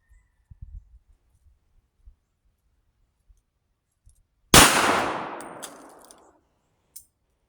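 A single sharp gunshot from a Tisas Stakeout 9mm pistol with a 5-inch barrel at a shooting range, with a ringing decay. Faint clicks and handling noises come before it and one soft click follows.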